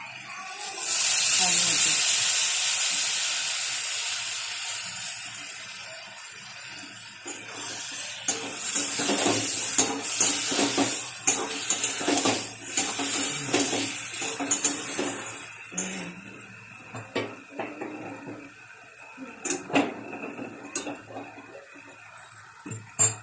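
Chili and ginger paste hits a hot pan with a loud hiss and sizzle that slowly fades, followed by clattering spatula scrapes and stirring against the pan, with a voice talking over the cooking.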